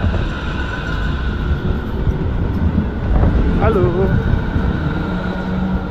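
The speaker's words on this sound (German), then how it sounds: "Das ist die Straßenbahn hier." A tram passes along a street in Frankfurt am Main, a loud steady rumble with a brief squeal of wheels on rail, while a voice says a greeting over it.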